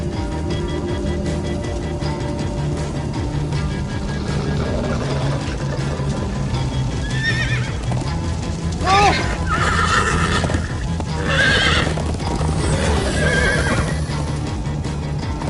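Horses whinny several times over galloping hoofbeats in Minecraft: Story Mode, with game music and voices in the background.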